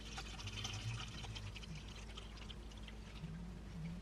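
Water glugs and splashes as it pours from bottles into a jellyfish tank, a steady close pour of about four seconds with no talk.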